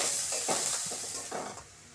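Chopped onion, green chilli and dried chilli frying in white cooking oil in a wok, a steady close sizzle with bursts of stirring and scraping.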